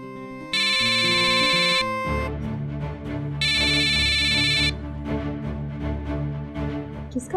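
A phone ringtone plays at night in two loud bursts, a bright electronic melody ringing over a steady musical background.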